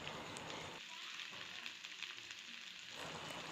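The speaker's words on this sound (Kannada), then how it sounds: "ಈಗ ಅದಕ್ಕೆ ಬೇಯಿಸಿಟ್ಕೊಂಡಿರೋಂಥ ಮೊಳಕೆ ಹುರುಳಿಕಾಳನ್ನು ಹಾಕ್ಕೊಳ್ತಾ ಇದ್ದೀನಿ" Sprouted horse gram frying in a hot pan, a steady close sizzle and crackle that eases briefly and then swells again.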